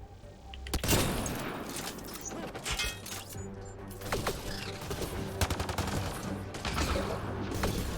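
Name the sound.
rifle gunfire in the video game Mass Effect Andromeda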